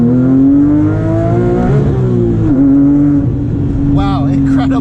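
A Porsche 997.2 GT3 RS flat-six climbs and holds loud, steady revs on the road, dipping briefly at a gear change before pulling again, with someone talking over the engine near the end.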